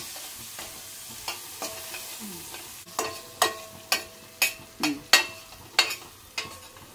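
A spoon stirs tomatoes and turmeric in a frying pan under a steady sizzle, giving a series of sharp scraping clacks that grow louder and more regular toward the end.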